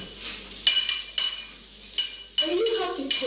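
Carrots for spring roll filling are stir-fried in a pan, with repeated scraping and clattering strokes of a utensil over a steady sizzle, loud and close, roughly one stroke every half second or so.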